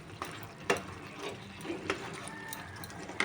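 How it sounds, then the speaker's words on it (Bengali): Drumstick fritters get stirred through a frying curry in a pan, faint scraping clicks and soft sizzling at close range, with sporadic louder knocks of the spoon. "বড়াগুলো দিয়ে একটু নাড়াচাড়া করব"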